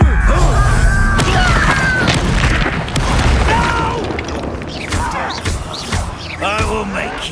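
Confringo blasting spell in the Hogwarts Legacy video game, with heavy booming impacts and rumbling blasts mixed with battle effects and shouts of enemy voices over a dense, continuous combat din.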